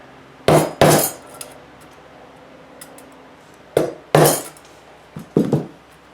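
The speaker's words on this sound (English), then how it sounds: "using your electronic screwdrivers for basically a chisel, but I'm not going to hit it very hard" An electronic screwdriver used as a chisel and tapped against a Cisco 3845 router: sharp metallic knocks in quick pairs, a double strike near the start and more clustered hits later, separated by quiet pauses.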